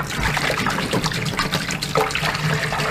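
A half gallon of apple cider pours steadily into a pot for cooking Eastern Shore blue crabs, giving a close, continuous splashing trickle with no break.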